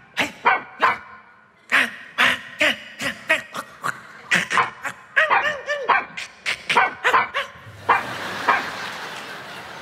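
A guard dog in a village comedy sketch barks loudly and close, sharp repeated barks coming in uneven bursts with short pauses between them.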